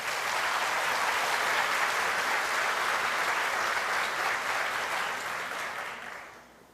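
A church congregation applauds steadily in a dense, sustained wash of clapping after a prayer in a Brazilian service, holding loud and even for several seconds before tapering off at the end.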